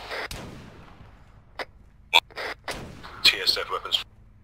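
Scattered heavy gunshots from an M2 machine gun in the video game ARMA 3, a few sharp isolated reports followed by a quicker cluster, fairly faint and mixed with soft voice chatter.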